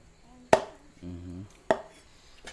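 Two sharp, heavy knife chops strike a board about a second apart, cutting the legs off a chicken, with a brief murmur of speech between them.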